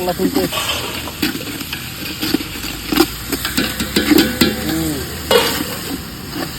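Onion sautéed and stirred in a pan for a roadside pulao, with steady sizzling and repeated spoon scrapes and clatters, mixed with background voices and a low engine hum.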